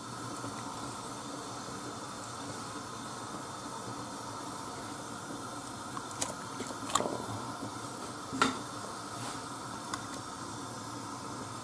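Water at a rolling boil in a cooking pot for turbot, a soft steady hiss and bubbling with a few faint clinks and knocks, heard quietly and alone.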